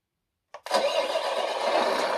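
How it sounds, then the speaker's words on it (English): A GT Power entry-level RC container truck's sound system plays an engine start: a brief crank burst, then a steady loud rumbling idle that carries on alone. "so to turn the engine on"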